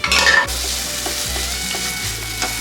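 Boiled vegetables stirred into fried pav bhaji masala in a pan, a loud continuous sizzle broken by repeated scraping strokes of the spoon at a steady rhythm, close and without voices.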